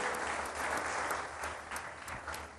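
A television studio audience at an iftar show gives sustained applause, a thick continuous patter of many hands clapping at fairly even loudness throughout.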